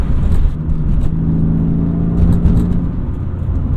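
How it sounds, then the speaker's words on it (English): A BMW E36 M3 engine with a Turner Motorsport intake hums with a low, throaty intake growl, heard inside the car with windows up, and briefly swells in a short rev. "Right out the rip, the induction noise is way louder, way louder, and it's very throaty."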